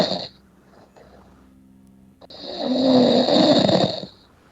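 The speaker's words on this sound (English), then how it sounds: "I'm not going to lower the snoring" A person snores loudly and close up: a quiet inhale rattle, then one long, rough, buzzing snore that swells and fades, with no talking.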